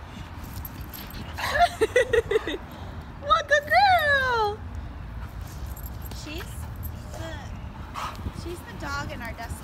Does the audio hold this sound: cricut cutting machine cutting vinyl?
no